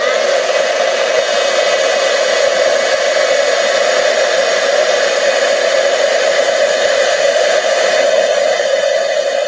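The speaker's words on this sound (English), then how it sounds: "And now I'm going to use my heat tool to" Heat tool melting embossing powder on a vellum sentiment, a loud, steady hair-dryer-like blowing hiss running unbroken throughout, close up with no talking.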